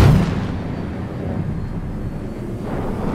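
Spaceship launch in Star Citizen: a dense, rumbling engine roar that starts strong, dips slightly and swells again at the end, steady and close without pauses.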